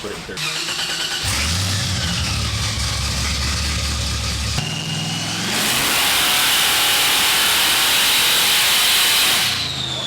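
A supercharged LSX engine in a C10 truck revs hard on a dyno, a loud sustained roar that climbs in steps and holds near full throttle before dropping off at the end.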